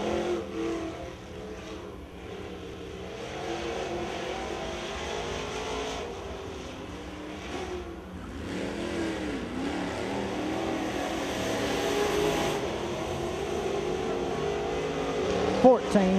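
Crate late model race car on a qualifying lap at a dirt track, engine droning and revving continuously at a distance while a track announcer talks over it.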